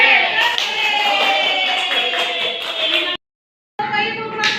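A group performs the tepuk semangat spirit clap in an Indonesian teacher training session, a dense, loud burst of many hands clapping with voices mixed in, stopping abruptly into silence before a brief final burst.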